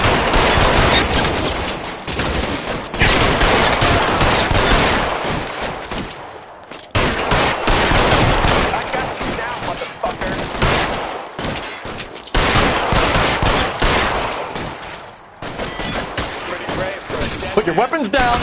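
Dense bursts of gunfire from the video game L.A. Noire come in long loud volleys with short gaps between them, and voices shout over the shooting.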